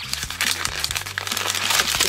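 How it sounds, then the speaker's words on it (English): Close, loud crinkling and rustling of packing paper being pulled out while unboxing plush mascot goods, a short burst of handling noise with no speech. "Oh, more paper."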